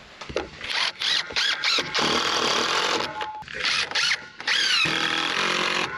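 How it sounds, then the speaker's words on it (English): A power drill drives 2 1/4 inch deck screws into a cedar bench, several short whirring bursts separated by brief pauses, close and fairly loud with no talking. "I'm using my deck screws, 2 1/4 inch deck screws for this, and I'm going to secure them all the way across"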